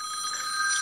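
A telephone rings with a steady, bright electronic trill that holds close and fairly loud for under a second, and nobody speaks over it.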